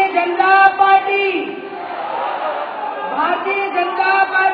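A rally crowd at a BJP public meeting in Udaipur chants a party slogan in loud unison, voices rising and falling in steady waves that fill the space.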